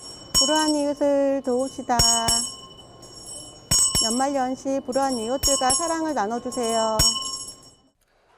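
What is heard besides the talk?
Salvation Army charity kettle bell ringing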